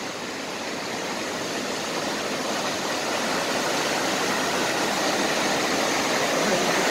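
Waterfall roaring with a dense, steady rush of falling water, loud and close, holding constant throughout with no distinct voices.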